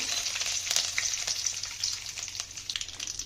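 Curry leaves tossed into hot oil with mustard seeds and cumin for an avarekalu dish, giving a steady crackling sizzle with scattered sharper pops throughout, close and moderately loud, with no talk.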